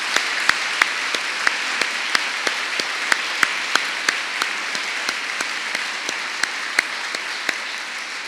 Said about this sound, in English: please give a rousing applause to Queen Sophia